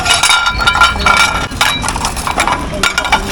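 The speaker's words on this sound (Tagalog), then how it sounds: "Kunin ko itong mga pinggan." Ceramic plates and kitchenware clink and knock together as they are picked up and stacked during dumpster diving, a close, loud series of irregular sharp rattles and chinks.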